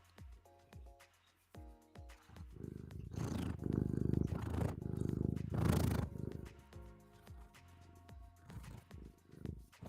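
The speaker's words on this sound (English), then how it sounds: "You gonna purr?" A cat purring steadily and fairly close, its rhythmic rumble swelling louder through the middle before easing off, over faint background sound.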